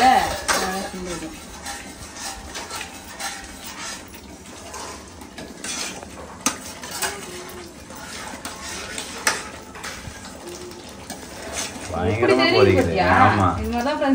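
Clattering of metal cookware with a lid set onto a pot of boiling ABC malt drink, amid kitchen clinks and a person talking, then a louder clanging burst near the end.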